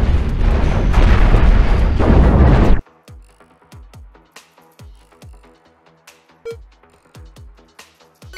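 Mega guns on a Cosmoteer ship fire at an enemy vessel: a dense roaring barrage gives way to a string of separate booming shots and impacts, irregularly spaced, each with a short decaying tail.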